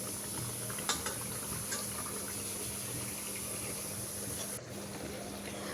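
Noodles boiling in a pot on a stove burner, a steady bubbling hiss with a low hum, a couple of faint clinks near the start and a brief dip near the end.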